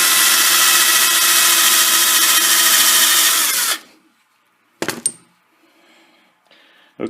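Hand drilling of starter holes in metal for a steady rest: a loud, steady power-drill whine runs for nearly four seconds, then stops, followed by a sharp clatter and quieter handling noises.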